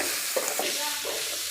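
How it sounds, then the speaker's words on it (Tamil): Onions fry in a pan for a mutton curry, giving a steady loud sizzle with a few soft scraping stirs over it. "பாருங்க, வெங்காயம் நல்லா வணங்கிடுச்சு."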